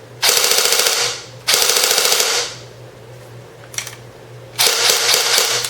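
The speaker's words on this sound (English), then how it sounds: "But the rate of fire is pretty nice. It shoots about 800 rounds a minute." A CYMA Desert Eagle electric airsoft pistol fires on full auto, giving three loud bursts of rapid buzzing shots at around 800 rounds a minute, the first two long and the last shorter, with a brief click between them over a steady low hum.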